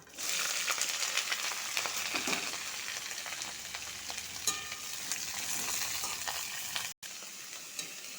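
Chopped bottle gourd stems and diced potatoes fry in a pan with a dense, continuous sizzle, close and steady, broken by a short dropout near the end.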